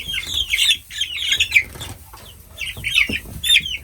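A flock of young meat chickens in a brooder clucks and squawks loudly and repeatedly, close by, with bursts of agitated calls and a little wing flapping.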